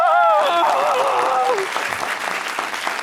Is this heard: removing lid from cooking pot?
no